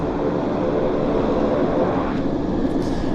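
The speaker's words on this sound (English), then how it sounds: "He's definitely taxiing to runway 26." Jet airliner taxiing toward runway 26 at Vancouver Airport, a steady broadband engine roar that stays loud and unbroken throughout, with no voices.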